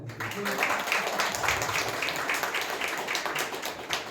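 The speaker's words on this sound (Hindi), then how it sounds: "जरा वर्शिप टीम के लिए थोड़ा ताली बजा देंगे," A church congregation claps for the worship team at an evening service, a dense, steady patter of many hands filling the room with faint voices underneath.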